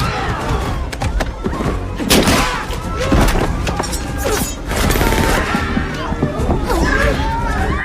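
A movie gunfight with rapid bursts of gunfire, heavy thuds and crashes, loud and dense, with a voice speaking over the action.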